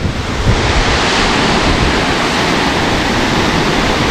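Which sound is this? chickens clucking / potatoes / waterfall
waterfall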